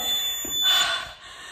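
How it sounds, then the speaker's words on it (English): High-pitched electronic beep from a home workout timer, a thin, steady tone that rises in brightness briefly and then continues, alone with no talking. "No doubt about that, with that high sound of the beep."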